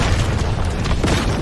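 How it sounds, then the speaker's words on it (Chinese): An elemental bomb exploding in the animated series Soul Land 2, a loud, deep, rumbling boom that fills the whole short moment without pause. "这里每一具尸体就是一颗致命的炸弹"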